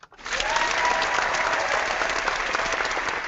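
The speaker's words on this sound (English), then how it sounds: "we got to give y'all a round of applause" A burst of applause starts sharply and holds as steady, dense clapping from a crowd, loud and close throughout with no clear talk over it.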